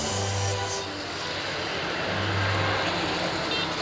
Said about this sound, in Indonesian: truk tangki nggak mau ketinggalan deh guys